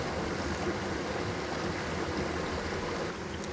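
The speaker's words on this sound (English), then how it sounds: "And in goes the water." Water poured into a camping meal pouch at a wild solo camp in the Yorkshire Dales, a continuous close splashing, rushing flow that runs steadily for a few seconds.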